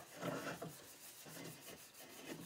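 Hand rubbing oil into a wooden tool handle in a workshop, a series of soft, close friction swishes in an uneven back-and-forth rhythm, quiet and alone.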